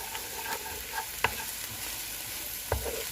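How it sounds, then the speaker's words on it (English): Onions and curry powder fry in hot oil in a pan, giving a steady soft sizzle with a couple of sharp utensil taps against the pan. "mainly for the onions and the curry powder to cook in the oil a bit"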